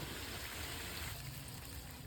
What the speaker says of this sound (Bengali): ঢাকনা খুলে পরিমাণ মতো পানি দিয়ে দেবো।